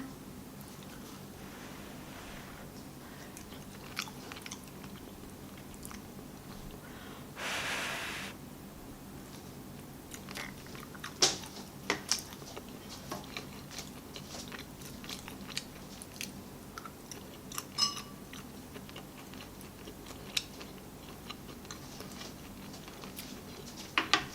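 Someone eating Korean pork suki at close range, with soft chewing and scattered small crunchy bites and clicks across a long, quiet stretch, plus one brief louder rustle; no talk.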